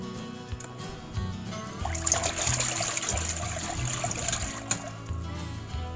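Water pouring from a hose into a washing machine tub, a steady trickle that swells into a fuller rushing splash after about two seconds and keeps running, with low hum and faint clatter beneath.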